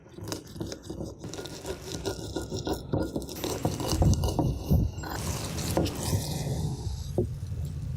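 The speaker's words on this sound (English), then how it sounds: "Add a little bit at a time, so it's easier while you grind it." Roasted peanuts and tamarind paste ground together by hand, giving a steady run of close, gritty crunching and scraping strokes with a wet, pasty edge throughout.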